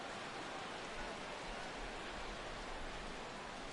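Baseball stadium crowd in a PS4 baseball game, rising with the count full at 3-2: a dense, steady roar of cheering, loud and continuous with no distinct voices standing out.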